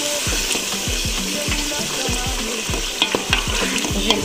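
Masala and dried parsley are stirred in a pot with quick repeated scraping strokes against the pan, an even rhythm over a soft sizzle, close and fairly loud, with no talk.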